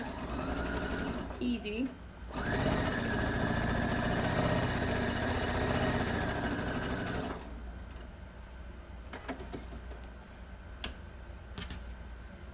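A domestic sewing machine stitches quilt pieces together in a loud, steady mechanical whir for about five seconds, then stops; a person speaks briefly before it starts and the room is quieter afterward.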